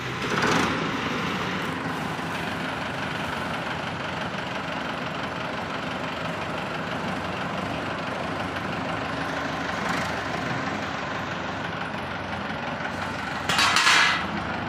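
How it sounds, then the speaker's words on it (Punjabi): A tractor engine idles and chugs steadily nearby with a low knocking rumble as the machine is eased backward, with a couple of brief clanks near the end. "ਲੋ ਟਰੈਕਟਰ ਪਿੱਛੇ ਕਰਾ ਦਈਏ ਥੋੜਾ ਜਿਹਾ"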